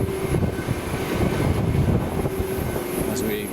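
Transavia Boeing 737 at Amsterdam Schiphol airport, heard as a steady, fairly loud engine hum and broadband rumble with a sustained tone, while indistinct voices murmur underneath throughout.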